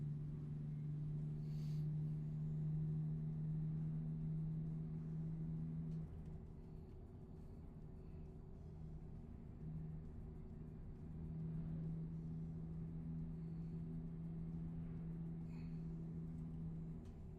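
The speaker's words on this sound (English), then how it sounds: "Is this truck motor too overpowering?" Truck engine in American Truck Simulator, a low steady droning hum that holds throughout, moderately loud and constant with slight shifts in pitch.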